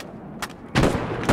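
Gunfire in a World War II video game battle at Arnhem, a short burst followed by a louder, sustained crackle of shots, fairly close.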